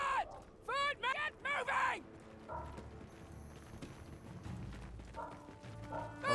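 Cavalry horses in the video game Mount & Blade II: Bannerlord make quick clip-clop hoofbeats, with rhythmic galloping bursts at the start and lighter hoof sounds later amid a game battle soundscape.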